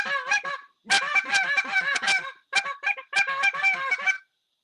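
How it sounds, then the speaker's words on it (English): A hand-tuned short-reed goose call blown in four quick bursts of loud, clear honks and clucks separated by brief pauses, with no voices. "That's kind of just a little clip there of our goose call."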